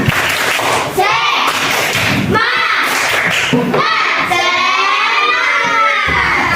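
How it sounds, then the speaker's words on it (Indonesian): Schoolchildren in a classroom chant and clap together in a rhythmic spirit cheer led by their teacher, loud and close, with shouting voices and bursts of claps running throughout. "mari kita dulu tepuk semangat"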